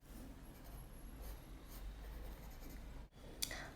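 A watercolour pencil crayon shades across paper with a soft, steady scratchy rasp, close and quiet, strokes running continuously with a brief pause near the end.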